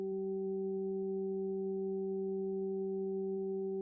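A 384-hertz solfeggio sine tone hums steadily alongside two other pure tones, forming a constant, even electronic drone that never wavers across the whole stretch.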